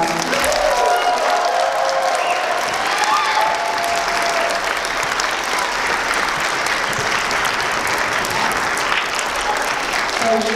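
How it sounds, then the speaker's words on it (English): Audience applause after a stage play, a loud, steady roar of clapping from a full house that carries on without letup for about ten seconds, with faint crowd murmur mixed in. "Let's give them one more round of applause."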